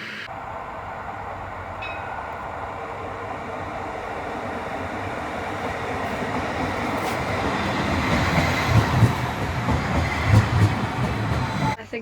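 A train rumbles into Edinburgh Park station, a low steady roar building gradually with faint clicks of wheels over rail joints growing louder near the end.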